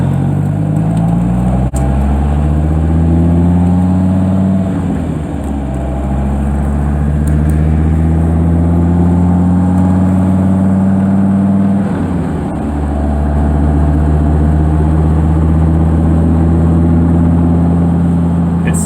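Twin-turbo Dodge Viper engine cruising from the passenger seat: a loud, deep, steady drone that rises in pitch through smooth upshifts, with two brief dips between gears.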